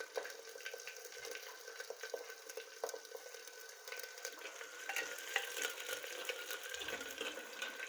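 Garlic paste and green chillies sauté in oil, giving a soft, continuous crackling sizzle with scattered small pops and occasional stirring scrapes, fairly faint and heard alone.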